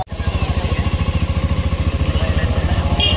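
Many motorcycles at a bike gathering in Godda district, with one close engine idling in a fast, even, throbbing pulse that runs loud and steady after a brief start.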